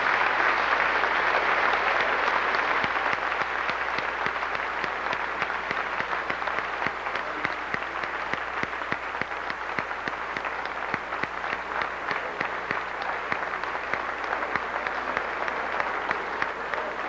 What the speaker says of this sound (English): these people deserve a fine round of applause